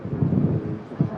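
Blustery breeze buffeting the microphone at Manchester Airport, giving low, uneven rumbling gusts that swell and fade over about a second, loud and close.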